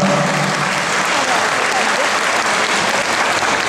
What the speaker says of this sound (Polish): oklaski ogromne, brawa